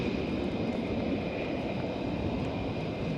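A military aircraft climbing out after takeoff at RAF Lakenheath gives a steady, distant jet roar, an even broadband rumble with a faint tonal whine and no talk.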